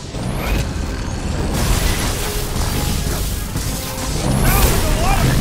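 Dense, continuous bursts of rapid gunfire and explosions in the video game Marvel's Guardians of the Galaxy, loud and chaotic, with crashing impacts layered throughout.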